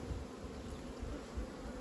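Honeybees buzz steadily at a beehive, a dense, continuous hum that is close and fairly loud, with no voices.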